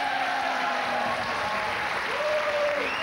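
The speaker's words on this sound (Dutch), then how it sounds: "een hartelijk applaus voor Jamai, voor Edcilia." An audience at a prize presentation gives warm, continuous applause, a dense steady patter throughout with a faint tone gliding beneath it.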